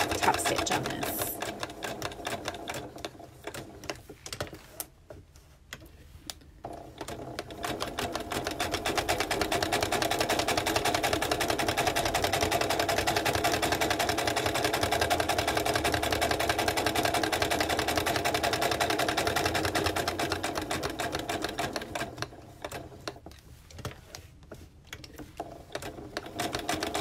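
Sewing machine running a top stitch about an eighth of an inch from the edge for a tea caddy, with a fast steady whirring hum that slows and pauses briefly near the start and end.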